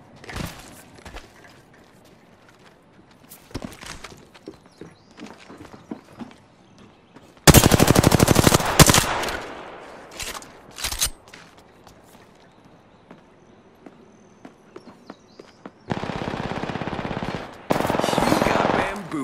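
Gunfire in Apex Legends: sparse distant shots and footsteps, then loud close automatic bursts, one at about eight seconds and two more later, with quieter stretches between them.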